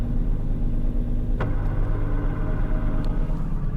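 Car transmission noise with the clutch pedal pressed in, a steady mid-low engine and drivetrain drone running throughout, with a brief clunk partway through and no talking.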